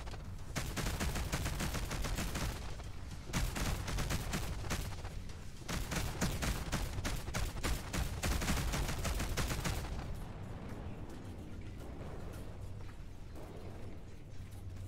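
Rapid bursts of ship weapon fire in the space roguelike Between The Stars, loud mechanical volleys rattling for about ten seconds before cutting off into a quieter hum.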